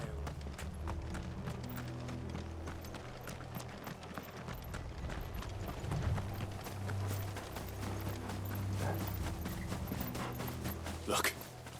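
Horse hooves clip-clop steadily in Final Fantasy XVI, a rhythmic trotting patter running beneath a low music bed, with occasional louder knocks near the end.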